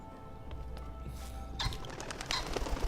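Birds in the game Sir, You Are Being Hunted, a pigeon-like cooing and a burst of flapping wings taking off partway through, fairly close and with no speech.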